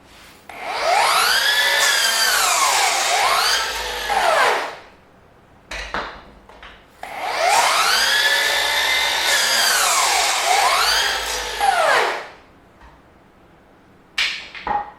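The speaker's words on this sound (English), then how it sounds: "Make a few cuts with the saw and then blow off the dust with this little blower" Ryobi power saw cutting pressure treated 4x4 lumber, two long loud cuts with the motor whining up and bogging under load, then shorter bursts between and after.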